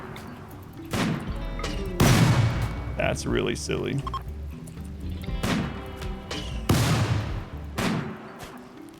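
Rapid gunfire from a shooting specialist in the RimWorld video game: sharp, booming shots crack out in quick succession across the span, with someone talking over and between them.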